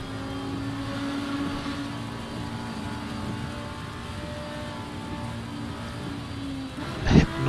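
A GT3 race car engine in Assetto Corsa Competizione on a wet Silverstone circuit drones steadily at a sustained pitch, with a brief sharp burst near the end.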